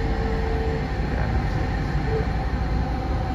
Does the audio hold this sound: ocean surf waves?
no